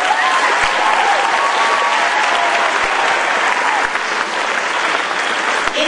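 A school spring concert audience applauding a jazz soloist, loud sustained clapping from a full room that holds steady for several seconds with a few whoops on top.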